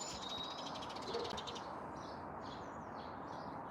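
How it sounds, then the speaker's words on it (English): Faint birdsong chirps high in surrounding trees above a steady outdoor hiss, a few short calls spaced across the moment. "You can hear the birds singing."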